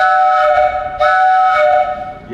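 Train horn or whistle sounding in a long sustained chord, loud and close, with a brief dip and a fresh blast about a second in, holding until it fades near the end.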